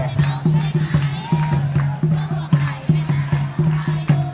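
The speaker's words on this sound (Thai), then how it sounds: "ตอนนี้สีส้มก็กำลังเชียร์" A crowd cheers for the orange team at a kindergarten sports day in Nakhon Sawan: a loud, rhythmic group chant with steady, regular beats that keeps going throughout.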